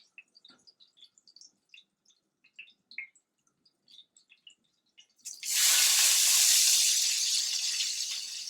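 Squid hits a hot pan during paella cooking. A few quiet ticks and clicks give way to a sudden loud, hissing sizzle that holds steady before easing off slightly.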